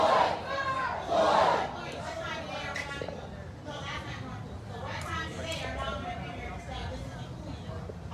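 Protest crowd in Charlotte, North Carolina, a dense hubbub of many voices with some louder shouts rising near the start, steady and surrounding throughout.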